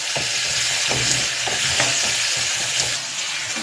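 Eggplant and onion sauté in hot oil in a pan for a South Indian tamarind curry, giving a steady, close sizzle broken by repeated scraping stir strokes.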